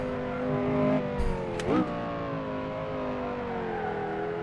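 Porsche Carrera GT in a racing game, its engine revving with a brief burst and a sharp gear-change dip early on, then settling into a steady, even drone at constant pitch.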